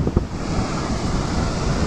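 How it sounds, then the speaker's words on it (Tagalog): Strong typhoon wind from Typhoon Carina roaring across a flooded neighborhood with damaged houses, a loud continuous rumble buffeting the microphone, with a brief louder gust near the start and no voices. "Ang lakas ng hangin mga kaunesa."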